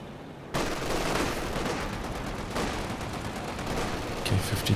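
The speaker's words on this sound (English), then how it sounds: "50 cal supporting this push, getting the suppression on there." Sustained .50 cal machine gun fire in the Company of Heroes 2 battle game, a dense continuous rattle of rapid shots with scattered heavier impacts, loud and close throughout.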